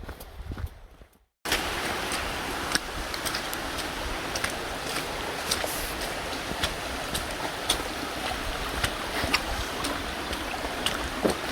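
A wide river on Dartmoor rushes and flows in a steady, close wash of water that runs unbroken after a brief muffled start, with a few sharp splashes or knocks standing out.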